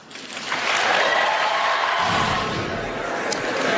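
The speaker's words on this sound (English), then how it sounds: "She got some applause for that line" A large debate hall audience breaks into applause after Hillary Clinton quotes Michelle Obama, a dense sustained clapping that swells quickly and holds steady for several seconds.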